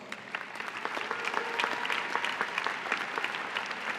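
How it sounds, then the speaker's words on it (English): A room full of people claps steadily at a 2018 university diploma and awards ceremony, a dense patter of hands holding at an even level throughout. "Aishwarya Raghunathan, Vikram Juneja, Please join me in a round of applause."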